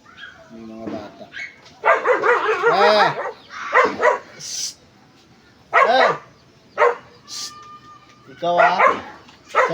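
A playful dog barks and whimpers close by in short, loud bursts, with yips and whiny calls between pauses, while a person talks to it.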